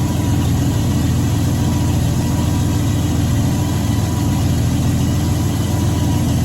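An old car engine with a small one-barrel carburetor idles steadily while warming up, a loud continuous low rumble that stays even throughout with no revving and no voices.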